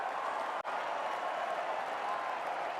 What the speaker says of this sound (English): Crowd roars them on.